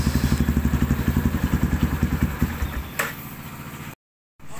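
A Yamaha Scorpio Z motorcycle fitted with a Nobi aftermarket exhaust idles close by with a rapid, even, throbbing pulse that weakens and fades, followed by a brief gap of silence.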